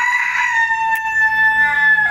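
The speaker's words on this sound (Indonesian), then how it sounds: "ayam" A rooster crows in one long sustained call close by, kept with other chickens on a home farm, with no talk over it.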